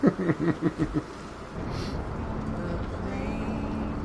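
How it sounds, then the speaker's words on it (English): A car engine idles while warming up, a steady low rumble that settles in after a brief burst of rhythmic sound at the start, continuing evenly to the end with no talk. "Warm up the car, I'll be right back."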